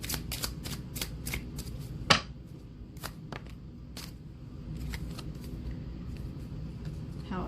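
Tarot cards being shuffled by hand for a one-card draw, giving a series of quick crisp riffling bursts and taps, close and fairly quiet, with one sharper snap partway through and no talking.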